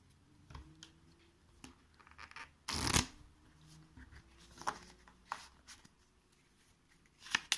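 A deck of playing cards being shuffled at a tabletop card game, with soft riffles and taps and one loud burst in the middle, close and otherwise quiet.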